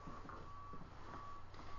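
A dump truck reverses outside, its backup alarm sounding a regular series of steady electronic beeps at a distance over a low rumble.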